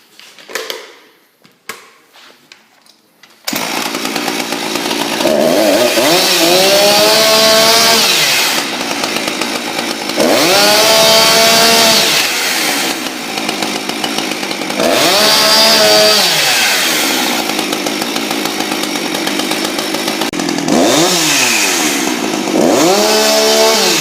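A chainsaw starts after a few seconds of handling noise, then runs loud and close, revving up and down repeatedly in long surges with brief dips in between.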